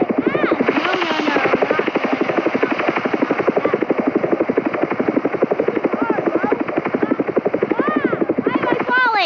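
A video game helicopter drones with a rapid, steady rotor chop that runs loud and continuous throughout, while players talk and exclaim over it.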